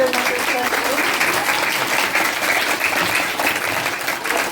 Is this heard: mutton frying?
no